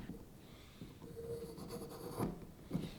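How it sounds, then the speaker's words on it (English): Pencil marking out a spot on wood to cut away, quiet scratchy strokes with a couple of brief louder scrapes near the end, no talking. "So I'm going to mark out a spot to cut away."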